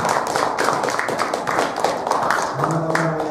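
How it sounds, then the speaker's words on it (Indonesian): An audience applauds during a management development program session, giving a dense, steady wash of many hands clapping at close range. A faint voice murmurs underneath near the end. "tepuk tangan"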